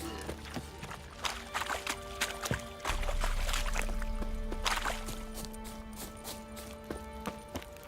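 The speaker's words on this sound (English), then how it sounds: "Time to water the horses." Horses in The Witcher 3 make soft clip-clop hoof steps and watery pouring and lapping sounds, with scattered game effects and faint background music, all at moderate level with no talk.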